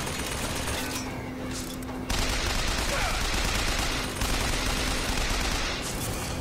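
A robot turret machine gun fires in BioShock Infinite, sustained rapid bursts of gunfire that swell and ease in a dense, loud rattle with short pauses between volleys.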